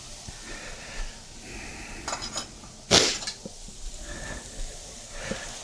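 Metal clinks and scrapes of a utensil stirring sauce for pasta alla puttanesca in a pot, with one sharp clank standing out amid quieter stirring sounds in a kitchen.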